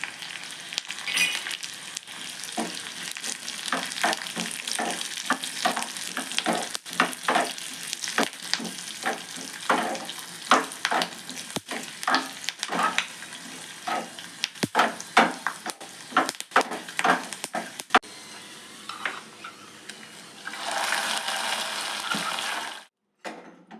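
Spoon stirring melon seeds into almond kheer simmering in a pan, a steady run of soft scraping strokes and faint bubbling sizzle, close and continuous with a brief gentle hiss near the end, no voices.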